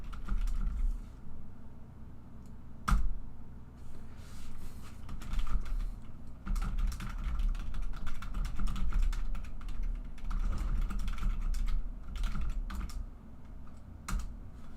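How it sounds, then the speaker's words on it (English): Continuous typing on a computer keyboard, quick uneven clicks pattering close by for a long stretch with no voices. "I'm typing my email address so you have it"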